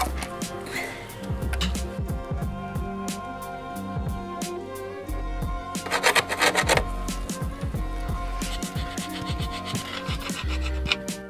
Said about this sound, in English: we removed the gasket and scraped off the old silicone and cleaned up the cover ready to paint